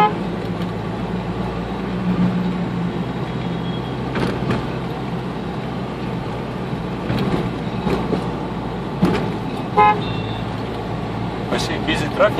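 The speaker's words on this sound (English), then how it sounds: "I see busy traffic in this time. It's rush hour." Rush-hour city traffic in Mumbai rumbles steadily close by, with engines passing and a few brief horn-like bursts, while people talk over it.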